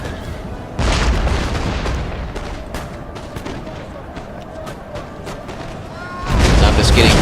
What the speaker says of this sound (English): I'm just getting bombarded by rockets also.